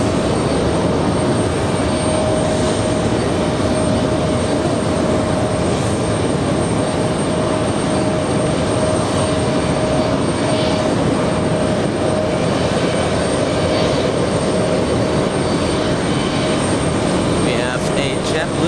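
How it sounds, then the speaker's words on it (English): A Polish Airlines Boeing 787 departs JFK bound for Warsaw, its engines a long, steady broadband roar with a faint constant whine on top, carrying at a distance without letup. "Polish Airlines 787 getting out of here."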